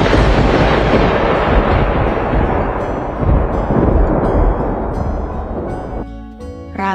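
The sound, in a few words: thunder and lightning strike sound effect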